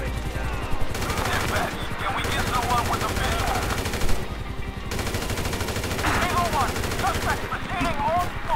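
AK assault rifle gunfire in GTA V rattles in rapid automatic bursts, several dense volleys separated by short pauses, with game sound effects mixed in and someone talking over it.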